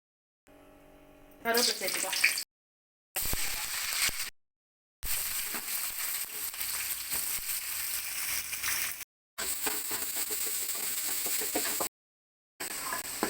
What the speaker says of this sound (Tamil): வெங்காயம் தக்காளி எல்லாம் நெய்யிலே தான் வதக்கணும் நிறைய